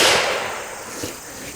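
A single sharp, loud crack from an Airforce Texan .357 big-bore air rifle fires right at the start, close by, then fades into a slowly decaying hiss over the next second or so.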